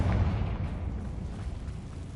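A Confringo fire spell goes off in a video game: a deep, rumbling explosion booms at the start, then fades into a lingering low roar.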